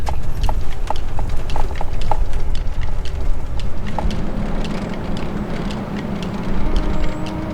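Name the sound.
horses walking, hooves clip-clopping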